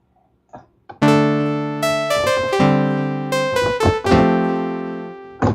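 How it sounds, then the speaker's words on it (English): A bright, funky clavinet-like synthesizer plays short staccato chords in a bouncy rhythm, close and loud, with no voices. "you'd swallow that as a clavinet."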